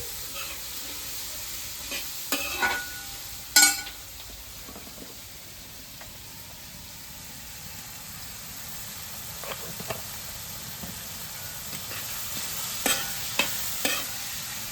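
Onions with turmeric fry in a pan, giving a faint steady sizzle under scattered sharp scrapes and clinks of a spoon stirring, close by.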